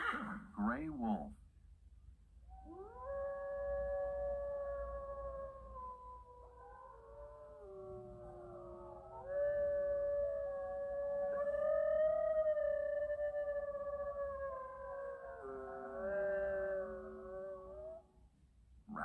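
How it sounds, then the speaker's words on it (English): A gray wolf howls in long, sliding, wavering tones that rise and fall for most of the stretch, fairly clear and close, with a few short yips at the start and a brief break before a final drawn-out howl. "Gray wolf."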